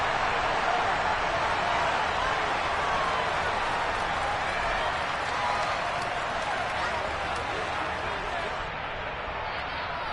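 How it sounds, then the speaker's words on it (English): A Madden 23 stadium crowd roars during a football replay, a dense, steady wall of shouting and cheering that stays loud for the whole stretch and eases slightly near the end, with commentary speech mixed in. "Plenty of shouts from this crowd as they watch the replay."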